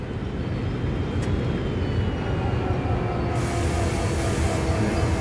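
Heavy freight locomotive from Train Sim World CSX Heavy Haul, a steady loud rumbling drone of engine and rail noise continuing throughout with no talk.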